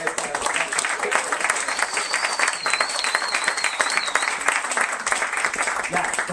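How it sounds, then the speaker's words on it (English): Applause at a poetry and football event, a continuous crowd clapping with some cheering, a high whistle rising and wavering in the middle. "Round of applause for our"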